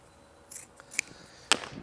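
Scissors snip away excess upholstery fabric on a restored antique wooden chair, three or four short crisp cuts spaced apart, close and fairly quiet with no voices.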